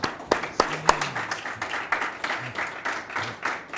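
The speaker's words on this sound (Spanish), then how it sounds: "Yo propongo que nos demos un aplauso como augurio de que vamos a trabajar en conjunto." Light, scattered clapping from a small group at a signing of a cultural and human rights agreement, with uneven individual claps that build into a modest, brief round of applause, close by and fairly quiet.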